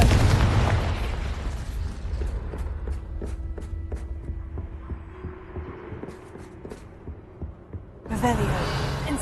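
A Confringo explosive spell in Hogwarts Legacy bursts with a loud low boom at the start, followed by a rumbling decay with rhythmic thumps and hum, and another burst near the end.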